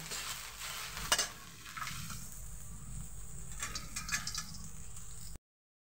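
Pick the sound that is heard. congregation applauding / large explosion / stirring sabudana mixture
stirring sabudana mixture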